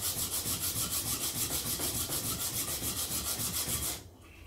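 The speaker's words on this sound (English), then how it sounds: "So I'm getting coarse on the back straight away because I'm re-grinding it completely." A hand plane blade's back is re-ground on a coarse sharpening stone, rhythmic close scraping strokes in steady rapid succession that stop abruptly near the end.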